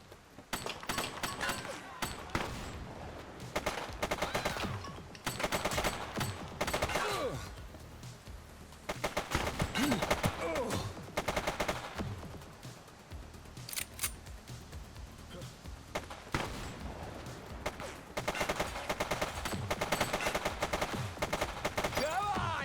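Gunfire in the police video game The Precinct during a rooftop shootout: repeated clusters of rapid shots and automatic bursts crackle on and off, loud and close, with brief gaps between volleys and voices underneath.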